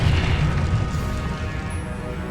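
A deep, rumbling explosive blast from the Confringo curse in Hogwarts Legacy, heavy low boom at the start that rolls on and slowly fades over a couple of seconds.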